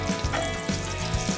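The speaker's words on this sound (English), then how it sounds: "add the bacon to the cast iron skillet on medium to high heat and cook until done" Bacon sizzles over medium to high heat in a cast iron skillet, a steady frying hiss with small pops and spits, brief and close.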